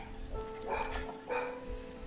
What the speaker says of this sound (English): I don't know if you guys can hear my dog barking.